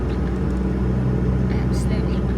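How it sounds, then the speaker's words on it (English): Cars and motorbikes overtake on a Moroccan road near Fez in bad weather, a steady low traffic rumble and engine drone heard from inside a vehicle. "there's cars and motorbikes overtaking on this road"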